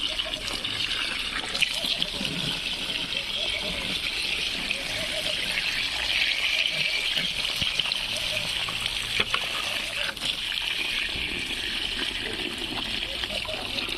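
Tap water runs and splashes steadily into a container, a continuous gushing trickle at moderate volume, with faint voices in the background.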